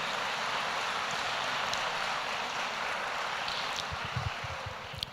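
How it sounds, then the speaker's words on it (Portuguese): Church congregation applauding during a sermon, a dense steady wash of many hands clapping at a distance, sustained for the whole stretch and easing slightly at the end. "Pode aplaudir."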